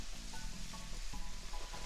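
Chopped onion frying in a pan for crab cakes, a soft continuous sizzle with faint crackles, fairly quiet and close, with no voices.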